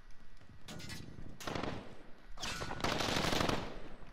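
Automatic gunfire crackles in a Call of Duty Warzone match, several sustained bursts of rapid shots at moderate distance separated by short pauses, with no talking over them.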